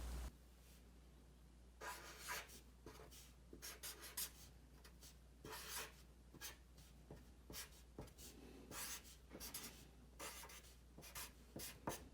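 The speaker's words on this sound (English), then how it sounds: "We're going to start by drawing a big square on a piece of paper." A pen or pencil draws a big square on a sheet of paper, with soft scratchy strokes coming in bursts and short pauses, close and quiet.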